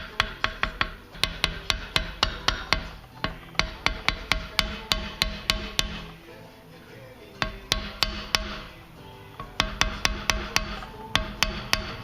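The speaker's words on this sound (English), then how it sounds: "Let me see if I can tap this in there." A hammer taps a part into the steering cylinder of an AC 160 tractor. The sharp metallic strikes come in quick, even runs, with a short pause in the middle before the tapping resumes.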